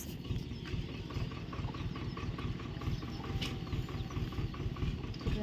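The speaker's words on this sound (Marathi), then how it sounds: "ट्रॅक्टर" A steady low engine chugs at idle with an even, rapid rhythm throughout, loud and close, with no voices.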